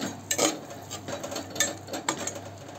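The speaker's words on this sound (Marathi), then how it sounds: "तो आता आपण परतून झालाय, जिथे आपण टाकणार आहोत सोयाबीनचे दाणे, ते मिक्स करून घेऊया।" A spoon stirs soybean khichdi with onion, tomato and potato in a pan, giving faint, close metallic scrapes and light clinks in an irregular rhythm.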